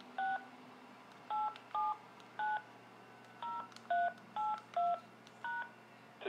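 Telephone keypad DTMF tones as a PIN is entered, about a dozen short two-pitch beeps in irregular clusters, faint over steady line hiss and a low hum.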